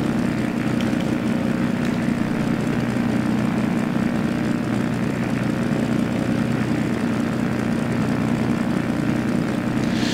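A simulated Siai Marchetti SF-260 propeller plane takes off in X-Plane 11, its engine and propeller a loud, steady drone that holds without a break throughout.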